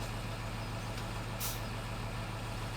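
A heavy farm machine engine rumbles steadily at idle in Farming Simulator 17, a low continuous drone with a brief hiss of air.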